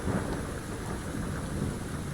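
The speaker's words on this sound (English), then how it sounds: "We just cheated up the storm." Thunderstorm in the Fallout video game: constant heavy rain hiss mixed with low rumbling thunder, dense and steady throughout.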